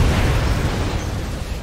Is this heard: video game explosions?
yes